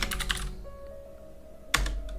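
Keys clatter on a computer keyboard while a command is entered during an Arch Linux install, a quick burst of close clicks, a pause with faint tones, then another sharp burst of keystrokes.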